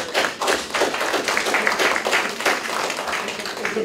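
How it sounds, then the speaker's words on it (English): Parents in an audience clap for their children at a 2015 Good Samaritan externship event, producing a steady, dense patter of applause that holds fairly even throughout. "parents, you should definitely give your kids an applause for their,"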